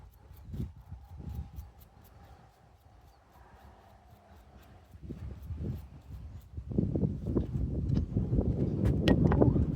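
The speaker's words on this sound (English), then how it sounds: "The wind kicks up and just messes everything up." Gusty wind blows outdoors on a cold day during a push mower repair, a broad rushing roar that starts in bursts, eases through the middle, then swells louder and steadier toward the end.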